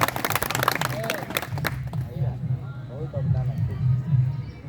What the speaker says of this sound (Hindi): जोर ताली उठे हो